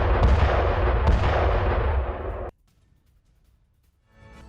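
Heavy gunfire and artillery during an armed attack in Syria roar in a dense, loud sustained blast, with two sharper reports inside it, then cut off abruptly into near silence before faint noise returns.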